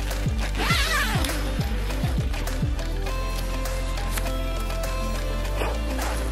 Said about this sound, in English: Zip comes all the way up, like that.